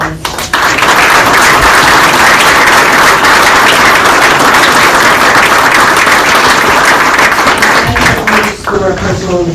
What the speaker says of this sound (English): So let's please have another round of applause.